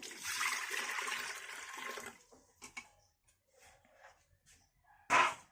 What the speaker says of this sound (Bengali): জল দিয়ে দিচ্ছি, জল দিয়ে দেবো প্রেসারে।